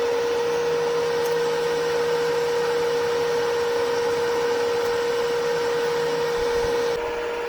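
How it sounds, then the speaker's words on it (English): Small cooling fan running inside a KOP&WDHOM 200-amp multi-process MIG welder, a steady, constant hum with a fixed tone, heard up close and alone. "There's a small muffin fan for keeping all the electronics cool."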